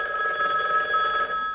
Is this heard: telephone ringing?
yes